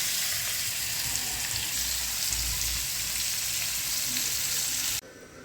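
Prawns fry in hot oil with a loud, steady sizzle and crackle that carries on evenly and then cuts off abruptly near the end.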